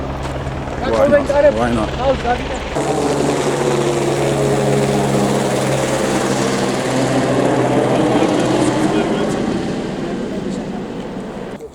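A helicopter lands on open ground in a remote mountain village in Georgia, its steady rotor and engine drone loud and close throughout, with a voice speaking over it at the start.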